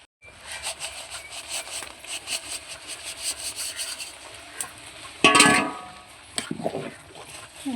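A spoon scrapes and rubs steadily through sweet jaggery rice in a pot, made with homegrown paddy rice as a temple offering, giving a soft continuous scraping with one louder clatter near the end.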